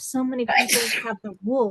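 A single sneeze bursts out during a person's steady talk on Medicare advice, loud and close, with speech continuing right after.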